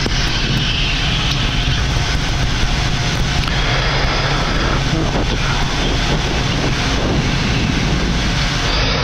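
The engines of an Air Austral Boeing 787 roar loudly and steadily as the aircraft climbs out after takeoff from a short Indian Ocean runway, heard from close range with a dense, constant rumble.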